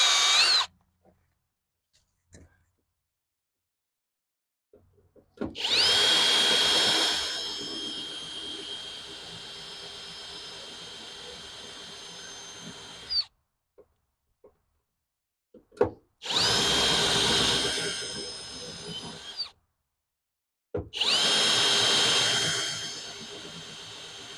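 A spot weld remover bores into the body of a 1971 VW Super Beetle during heater channel removal, with three long, loud, high-pitched whining bursts of drilling separated by silences and a few small clicks.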